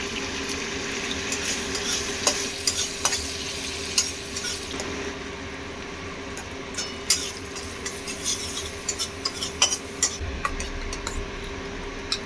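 Whole spices tempering in hot oil for a prawn and pomfret curry, a steady crackling sizzle with scattered pops and occasional clinks of a utensil stirring the pan, no voices.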